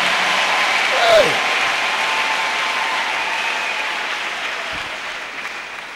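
A church congregation applauds the Lord in a broad, steady wash of clapping that stays loud and sustained throughout, with a brief vocal exclamation early on.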